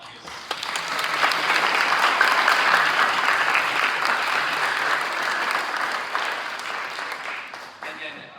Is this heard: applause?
yes